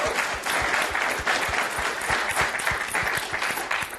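Applause from an interview audience, dense and steady clapping filling the whole stretch at close range, with no talk over it.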